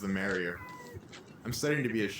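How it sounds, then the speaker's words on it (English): A pet cat named Roxy meows repeatedly, drawn-out mews rising twice under and between steady talking. "Please excuse the meowing. That is my cat, Roxy."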